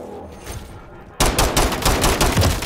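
Video game gunfire bursts in suddenly after a quiet moment of murmured talk: a loud, rapid string of shots fires in quick succession, close and punchy, continuing to the end.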